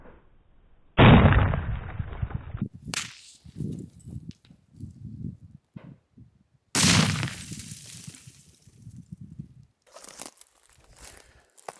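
A Mod.17 minigrenade goes off, heard as two sharp, loud bursts several seconds apart. After each burst comes scattered crackling and debris-like rattling, with quieter gaps between them. No one speaks.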